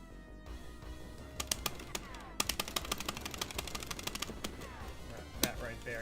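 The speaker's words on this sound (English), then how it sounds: "There, he fires 3 shots." Sharp gunshots from a boss's pistol in the Wild West C.O.W-Boys of Moo Mesa arcade game, a quick scattered run of cracks over busy game music and effects.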